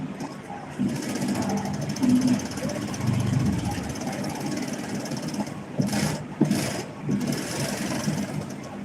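Sewing machine stitching fabric during a live tailoring lesson, a continuous close mechanical whirring hum with brief pauses and louder bursts, with a voice talking over it at times.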